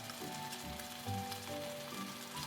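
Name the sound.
whole tomatoes stir-frying in a pan for ragu sauce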